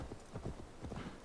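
Horse hooves clip-clop in the Assassin's Creed Valhalla video game, a quick, even rhythm of soft thuds at moderate distance, faint and steady throughout.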